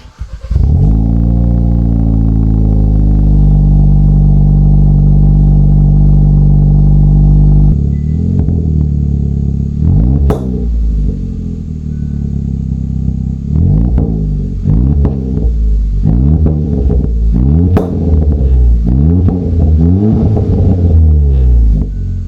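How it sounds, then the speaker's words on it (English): A 2023 Kia Forte GT fitted with an MBRP axle-back exhaust starts cold, holding a loud, steady low idle drone for several seconds, then revving repeatedly in sharp bursts with a throaty rumble, close up, with no talking. "let's get a cold start on my MBRP axle back exhaust"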